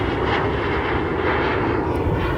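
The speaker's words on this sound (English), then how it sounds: "It's like two planes flying above my head." An airplane passes overhead near a beach beside an airport, a loud, broad engine roar that stays heavy and sustained for the whole stretch, with no talking.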